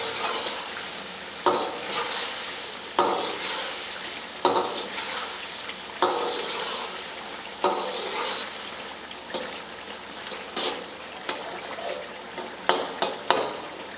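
Tomatoes frying in chicken charsi karahi, Peshawar style, with a spatula repeatedly scraping and knocking the pan in irregular strokes over a steady close sizzle.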